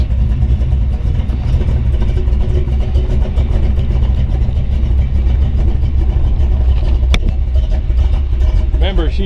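A cold 1932 Ford Roadster hot rod with a ZZ4 350 engine idles loud and close with a steady, rumbling low throb, while someone talks over it and a brief click sounds near the end.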